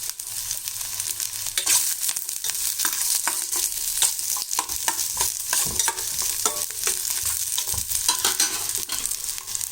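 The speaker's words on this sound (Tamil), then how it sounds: "பூண்டு, இதை நல்லா வதக்கிடலாம்." Garlic sautéing in a pan for an urad dal chutney, with steady close sizzling and frying crackle under repeated stirring scrapes, running continuously and fairly loud with no talk.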